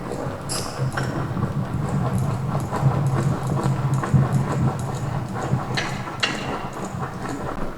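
Horse hooves thud in a steady clip-clop rhythm during dressage riding, the footfalls close and moderately loud over a continuous low rumble of movement.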